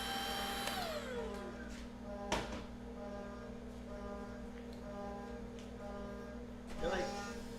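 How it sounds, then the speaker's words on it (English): A small vacuum cleaner runs with a steady, droning motor whine and tonal hum, with a few brief knocks and clatters on top, in a workshop where aluminum is machined. "Yeah, this small little vacuum is definitely louder."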